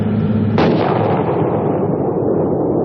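An M1A1 Abrams tank fires its 120mm main gun in a single loud, booming blast that rumbles and decays slowly over the next few seconds, with no voices.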